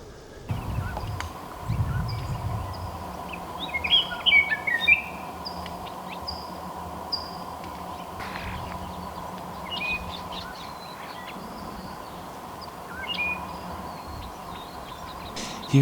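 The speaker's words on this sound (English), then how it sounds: "Scott's oriole." A Scott's oriole sings near a campsite in desert chaparral, clear whistled phrases repeating at moderate distance over a faint steady background hum, with a few other chirps scattered throughout.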